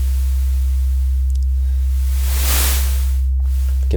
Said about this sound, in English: We've got the sub going through unimpeded on channel A, the sine wave. Channel B, we've got a noise